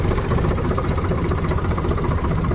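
A loaded tractor's engine runs in a steady, loud, low rumbling drone that continues throughout without a break, with no voices.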